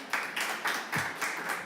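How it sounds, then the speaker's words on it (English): Applause from a small audience closing an energy sector panel, faint, sparse claps in loose, uneven bursts with no voices over them. "Warm applause."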